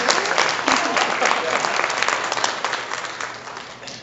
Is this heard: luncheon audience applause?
yes